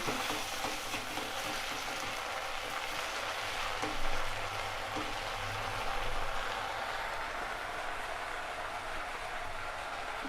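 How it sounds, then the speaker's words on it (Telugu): Ginger garlic paste frying in a pan with oil and curry leaves for a biryani gravy, a steady close hiss and sizzle that runs unbroken throughout. "ఇప్పుడు అల్లం వెల్లుల్లి పేస్ట్ వన్ స్పూన్ ఇది కూడా కొంచెం వేగనిద్దాం"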